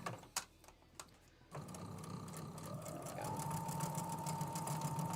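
A home sewing machine runs slowly over bulky quilt seams, giving a soft, even motorized whir with a faint steady tone, quiet and close after a few scattered taps at the start.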